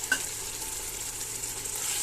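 Mutton pieces with salt sizzle and are stirred in a pan for mutton biryani, a steady close frying hiss with a brief utensil clink at the start.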